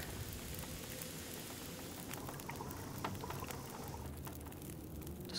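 Water heating over a campfire for tea in The Long Dark, a steady, faint bubbling and hissing wash with scattered soft pops running throughout, no voices.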